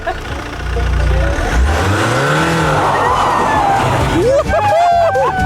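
Race car engine revving hard and accelerating away at a race start, loud and close, rising in pitch through a gear change, with crowd noise and voices around it.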